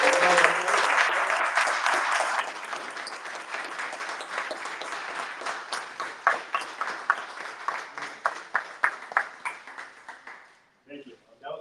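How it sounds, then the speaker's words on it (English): Applause at a workshop gathering, dense clapping at first that thins into a handful of distinct, spaced claps before stopping near the end, with voices present. "just give a round of applause for"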